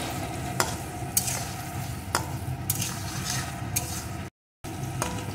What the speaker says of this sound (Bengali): এখন এর ভিতরে দিয়ে দেবো একটা টুকরো করে কেটে রাখা আলু। আলুগুলোকে একটু ভেজে নেব।